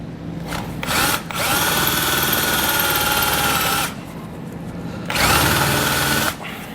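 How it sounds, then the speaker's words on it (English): A loud power drill runs close up in long grinding stretches, pausing briefly between bursts as it bores through the underside of a 2021 Ram 1500 truck's steel frame. "We're going to be drilling through the bottom side of the frame there"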